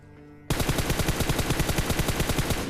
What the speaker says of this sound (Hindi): मैंने प्री फायर दिया